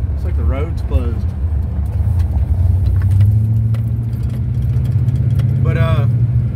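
A car engine hums steadily and close as the vehicle drives down a closed road, with someone talking over the continuous motor drone.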